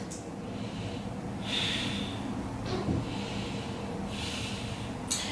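Steady nasal breathing during a yoga exercise, a slow run of soft snort-like breaths close to the mic with brief sharper exhales, no talking.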